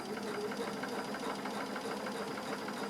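A sewing machine runs steadily at close range during free-motion stitching of appliqué on a quilt, with a continuous even mechanical whir and rapid needle chatter and no pauses.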